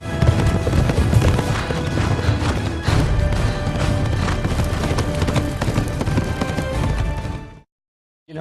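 Pounding racehorse hooves thunder continuously in a dense, loud rush for several seconds, then cut off abruptly into silence.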